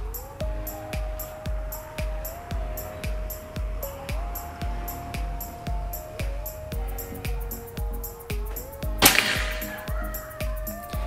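A Predator 500cc air rifle fires a single Hercules 13.6-grain pellet, a sharp crack near the end that cuts through a steady, rhythmic ticking and a faint sustained tone in the background.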